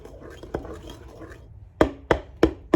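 A spoon scrapes and knocks through banana muffin batter in a bowl, soft stirring at first, then four sharp, close taps against the bowl's side near the end.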